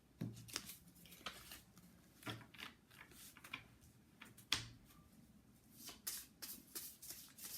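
Tarot cards are shuffled by hand in a string of soft, papery riffles and quick flutters, close and quiet, coming in irregular bursts with short pauses between them.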